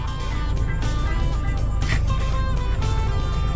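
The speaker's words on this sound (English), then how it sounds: "it's been a day of sitting in traffic" Inside a car stuck in a road traffic jam, a steady low rumble of engine and road noise fills the cabin, with music playing faintly over it.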